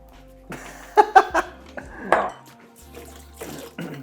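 Chopped onion tipped into a bowl of vegan burger mixture, with a few sharp clinks and scrapes of a utensil against the bowl, nearby and moderately loud, in short separated bursts.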